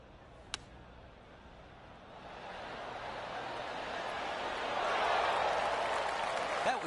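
In the PGA Tour 2K25 video game, a crisp club strike rings out, then a gallery of golf spectators gives a gradually building round of polite applause that carries on to the end.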